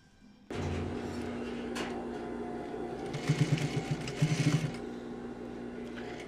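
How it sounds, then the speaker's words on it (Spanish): A sewing machine topstitches the right side of sportswear trouser fabric a quarter inch from the edge. It starts abruptly, hums steadily close by, and at moments the needle speeds up into rapid chattering bursts. "por el derecho de la tela, vamos a realizar un pespunte más a un cuarto de pulgada"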